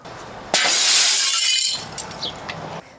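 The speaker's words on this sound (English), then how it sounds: "There's glass everywhere, it's shattered." Unprotected window glass shatters during a hurricane, a sudden loud crash followed by a bright, sustained spray of breaking glass and scattered tinkling pieces that fades out over about two seconds.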